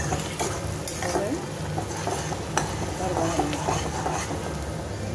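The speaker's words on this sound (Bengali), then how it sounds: "এবার জমিয়ে মাটনটাকে কষিয়ে রান্না করতে হবে" Mutton cooks down in a thick spice paste in a pan with a steady, loud sizzle. Stirring scrapes and clatters run through it without a break.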